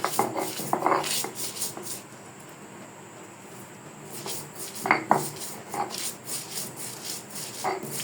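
Fried dried chilies ground by hand with salt on a stone slab for a Bangladeshi bharta, giving irregular scraping, knocking and rubbing strokes close by, louder in bursts, with no talking.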